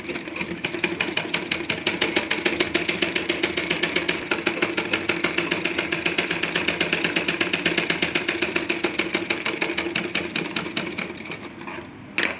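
A sewing machine stitches a blouse in a long, steady run of rapid, evenly spaced mechanical clatter, close and loud throughout, slowing and stopping near the end.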